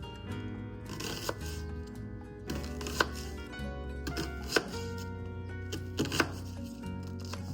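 An onion chopped with a knife on a cutting board in a family kitchen; a series of sharp, close knife taps at uneven intervals under background music.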